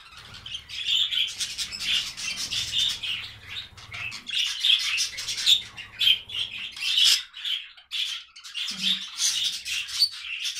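Budgerigars, a newly paired male and female, chirp and chatter at night indoors, a near, steady stream of high twittering and squawks running throughout with brief pauses.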